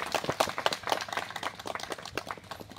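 Several people clap in welcome at a tree planting inauguration in a forest, with a run of quick, irregular hand claps that is moderately loud and close, then thins out and softens.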